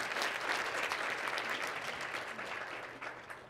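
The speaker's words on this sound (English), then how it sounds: "So round of applause for our Lady Track and Team Field" A crowd at a school signing ceremony applauds for a girls' track and field team, steady dense clapping that stays loud and even, tapering slightly near the end, with no speech over it.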